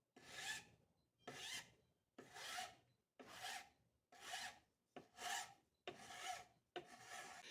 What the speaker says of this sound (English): the reason that I'm doing this with a file is because if you use an electric motor to try to grind on plastic